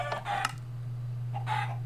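Chickens in the Minecraft video game, 1.8 version, give two short bursts of clucking, close and clear over a steady low hum, with no talking.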